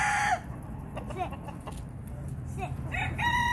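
Chickens on a farm cluck and crow close by in short repeated calls, with soft rustling and faint talk in the background.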